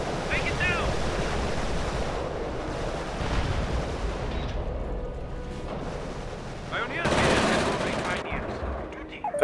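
Machine gun fire in the video game Company of Heroes: bursts of rapid gunfire mixed with a rushing, wave-like battlefield wash, swelling louder toward the end, with voices faintly present.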